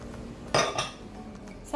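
A spoon or utensil clinks against a bowl while spices and tomato paste are stirred together, with two or three sharp scraping knocks over a low background hum.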